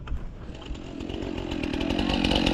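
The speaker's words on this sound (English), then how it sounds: "I've got my notch cut, so chainsaw, let's go." A chainsaw revs and cuts into a log outdoors at a tree-felling job, its buzzing engine building steadily louder and harsher over a couple of seconds.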